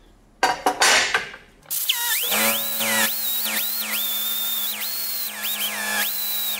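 A power tool with a high whining tone strips paint off a small cast aluminum ear before TIG welding repair, its pitch dipping repeatedly under load as it bites into the part, after some brief handling noises.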